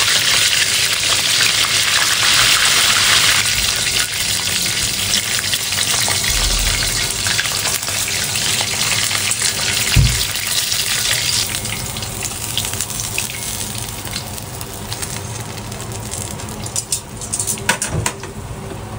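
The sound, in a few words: garlic frying in a pan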